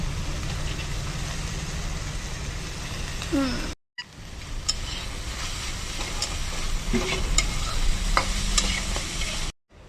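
Chicken for a sandwich filling sizzles and is stirred in a hot pan, a steady close frying hiss with scraping and clinking, briefly cut off twice by short silent gaps.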